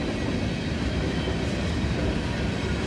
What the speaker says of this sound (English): So this is probably gonna be a long train here